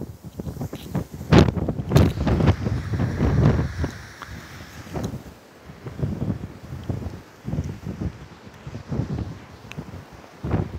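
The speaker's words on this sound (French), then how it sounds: "Autant il fait super beau, autant on a beaucoup de vent, les amis." Strong wind on a sunny beach in Algeria buffets the microphone in heavy, gusting bursts, loud and close, with rustling surges rising and falling throughout.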